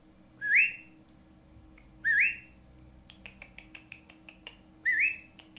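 A pet cockatiel gives clear, rising whistled notes three times at spaced intervals, and a quick run of short chirps or clicks fills the gap between the second and third whistles. The bird is close and there is no talking.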